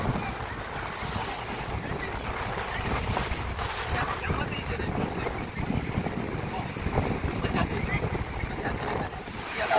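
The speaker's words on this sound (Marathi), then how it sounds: "केवढी लाटांचा प्रभाव, एवढा खवळलेला समुद्र आणि त्यामध्ये बोटचं जाणं आणि बोट परत सुखरूपपणे वापस." A boat rides a rough, churning sea off Kelwa beach in Palghar, with loud, continuous crashing waves and heavy wind buffeting close to the microphone. Indistinct voices come through faintly under the roar.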